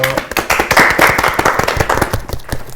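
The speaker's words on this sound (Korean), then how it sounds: "박수 부탁드립니다." Audience applause at a community library talk show event: a short burst of sharp, close hand claps, fairly loud and irregular, tapering slightly toward the end.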